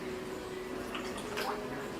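Water poured through a funnel into the tank of an Nd:YAG tattoo removal laser machine, a soft trickling with a few drips over a constant hum, faint and close.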